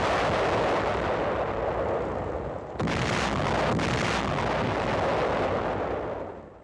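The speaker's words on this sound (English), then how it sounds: "The mines are carried to a secluded area and then destroyed." Captured anti-tank mines detonated in a secluded area, heavy rumbling explosions with a sharp fresh blast partway through, loud and sustained in an old wartime newsreel recording.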